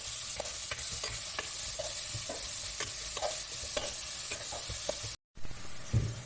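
Onions and tomatoes frying in a pan, a dense continuous sizzle with repeated scraping stirs of a spatula, close and fairly loud, broken by a brief cut near the end.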